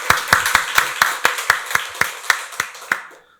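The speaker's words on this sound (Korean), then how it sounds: "박수로 하나님께 영광 돌리겠습니다." Church congregation at a Sunday worship service clapping in unison, about a dozen sharp, evenly spaced claps that ring out and then stop.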